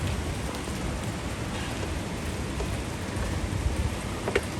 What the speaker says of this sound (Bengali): দুবাইতে আজ প্রচুর বৃষ্টি হচ্ছে, প্রচুর।